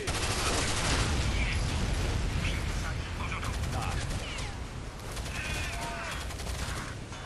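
Sustained automatic gunfire and rapid bursts from a Rainbow Six Vegas 2 firefight, dense and loud throughout, with faint shouted voices mixed in.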